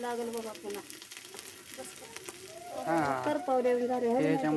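Roasted black chili powder hits hot oil in a pot over a wood-fired stove for a village chicken curry, crackling and sizzling steadily while a voice speaks over it.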